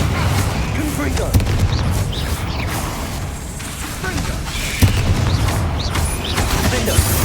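Spell explosions and combat effects from the video game Hogwarts Legacy, with a few sharp booms and bursts over a busy, continuous game soundscape.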